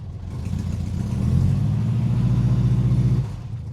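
A Ford 17M with a 1.7 liter V4 engine revs close by, a low rumbling drone climbing and holding for about three seconds before dropping away suddenly.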